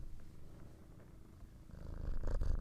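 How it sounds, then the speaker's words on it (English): A cat purrs close to a microphone with a soft, continuous low rumble that grows a little louder toward the end, with faint rustling. "He's purring like a motherfucker."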